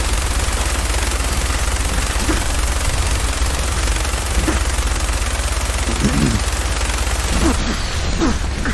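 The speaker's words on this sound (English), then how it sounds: "we just took them down with a basic minigun" A minigun in Fallout 4 fires continuously as a dense, loud, unbroken rattle lasting the whole stretch, with low impact thumps and bursts scattered underneath.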